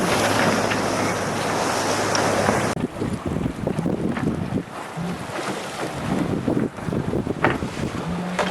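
Wind buffets the microphone in a loud roar, then gives way to sloshing ocean waves and gusty wind noise around a boat in a gale on the Irish Sea.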